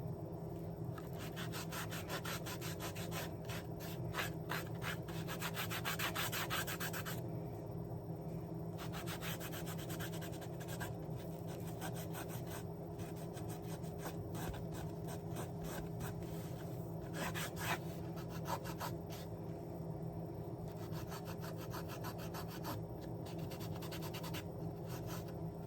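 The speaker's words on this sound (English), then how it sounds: "rub it in, making sure you get all of the streaks out" Finish is rubbed by hand into a thrifted wooden tray, producing a continuous fine scratchy rubbing with busier stretches and quieter gaps over a steady low background hum.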